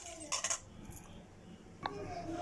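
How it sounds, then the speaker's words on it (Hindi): An egg is whisked in a bowl in a home kitchen while making shami kabab, giving a few quick clinking taps of utensil against dish, close and moderately loud, with brief pauses between bursts. "इस अंडे को फेंट लें अच्छी तरह से"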